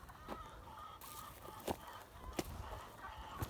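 Chickens and other poultry at a homestead coop give a few scattered, fairly distant clucks and calls over steady outdoor background noise, with no talking.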